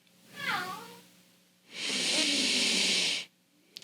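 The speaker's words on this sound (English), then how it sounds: "or you can just walk in circles, meowing at me" A cat lets out one short, close meow, followed after a pause by a loud, sustained hiss lasting over a second, then quiet.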